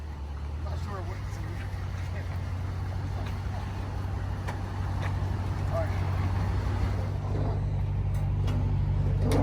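A wrecked Ford Mustang's engine idles in a low, steady rumble as the car reverses, the drone swelling slightly louder toward the end, with faint background voices.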